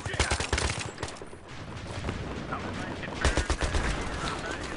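Gunfire in a Battlefield 3 multiplayer beach battle: dense rapid automatic bursts and scattered shots crackle continuously, loud and close at the start and again near the end, over a busy battle din.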